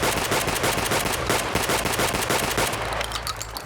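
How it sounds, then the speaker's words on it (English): Rapid automatic gunfire in Escape From Tarkov at a hideout shooting range, a loud continuous stream of evenly spaced shots that slows and stops near the end. "let's just aim for this target down there and fire as fast as we can"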